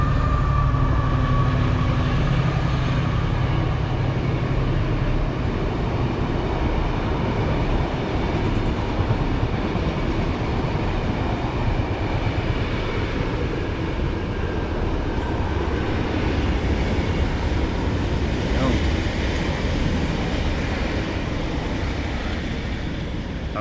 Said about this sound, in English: And that is a train going past.